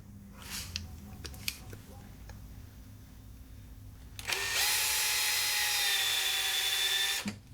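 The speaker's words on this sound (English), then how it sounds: "We're going to drill a hole right into the tire" A high-pitched power drill whines steadily for a few seconds, drilling into a motorcycle tire, after some quiet handling clicks and rustling.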